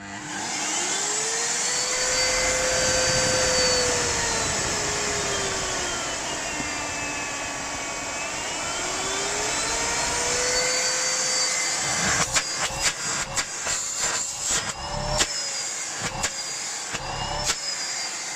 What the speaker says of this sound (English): I've got it plugged in and I'll turn it on to show you it working.